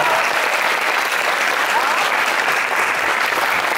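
Studio audience at a Stockholm radio house applauding a band taking the stage, steady dense clapping throughout at close range, with a voice speaking over it.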